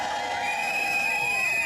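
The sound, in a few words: audience cheering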